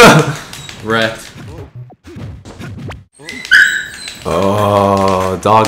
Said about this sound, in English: Dog, please stop.